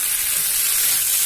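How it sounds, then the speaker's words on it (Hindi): Macaroni frying with sauce in a pan gives a steady, close, bright sizzle that holds evenly for the whole moment, with no voices over it. "और सॉस के साथ इसको अच्छे से थोड़ी देर में फ्राई कर लूंगी"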